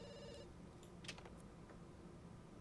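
A telephone rings in The Sims 2, a few short bright electronic trills standing out over a steady low game background hum, with no one talking.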